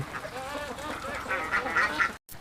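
Khaki Campbell laying ducks on a small farm pen of about 700 birds give off a steady run of nasal quacks, several overlapping and close by, continuing throughout before a brief cutoff near the end.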